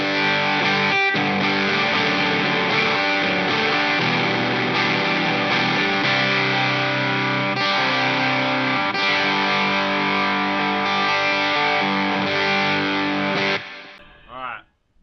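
Electric guitar through a dual overdrive pedal with the drive fully up and the volume lowered, long loud saturated chords with steady repeated strums that cut off near the end, followed by a brief voice.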